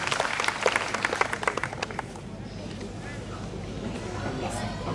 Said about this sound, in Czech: Prosím, potlesk pro Davida Kosa